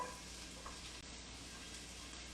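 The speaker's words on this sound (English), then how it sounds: "I'll put 2 tablespoons of olive oil and we're gonna add our onions to our pan." Onions hitting hot olive oil in a pan, a faint, steady sizzle and crackle that runs continuously with no voices.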